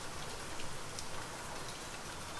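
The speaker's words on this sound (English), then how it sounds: "it's raining again" Steady rain in the video game Farmer in the Fallout, a dense, even hiss of falling drops at moderate level, continuous throughout with no voices.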